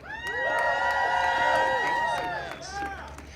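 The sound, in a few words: audience cheering to welcome a speaker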